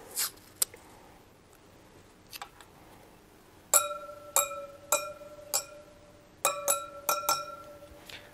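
A metal tool taps Harley-Davidson Pan America motorcycle wheel spokes one after another, each producing a short bright ringing ping, in an uneven series after some quieter handling noises.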